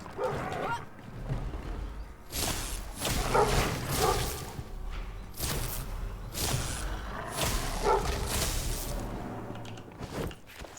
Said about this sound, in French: Ah, le chien.